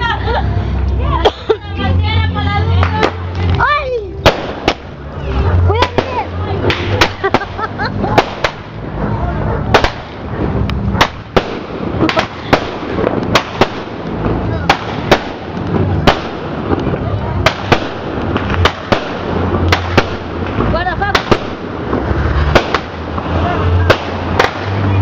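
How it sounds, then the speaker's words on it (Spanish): Very loud firecrackers and fireworks bang in a dense, continuous barrage, with crowd noise and voices of people talking mixed in beneath the blasts. "Peligro, che, con esas bombas muy fuertes."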